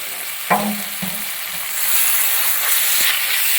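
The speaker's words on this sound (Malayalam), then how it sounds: "7 പച്ചമുളക് നടുവേ പിളർന്ന് ഇട്ട് കൊടുക്കും. നന്നായിട്ട് ഇളക്കി കൊടുക്കുക." Vegetable stew with split green chillies being stirred in a pan in a Kerala kitchen: a few scraping spoon strokes over a steady sizzle of frying, close and moderately loud.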